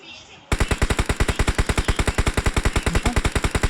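Gunfire in the mobile game BGMI: sustained rapid automatic fire with evenly spaced, loud, punchy shots in a fast steady rhythm, played over quiet background noise.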